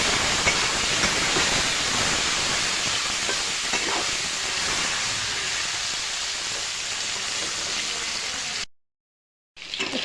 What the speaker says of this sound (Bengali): এখন ভালো করে নাড়াচাড়া করে ভেজে নেব